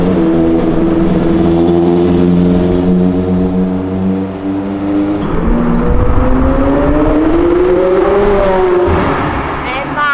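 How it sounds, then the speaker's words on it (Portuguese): A McLaren sports car engine revs hard with a rising, rasping whine, then drops and climbs again in a second loud acceleration. "uma McLaren acelerando que a gente nunca viu"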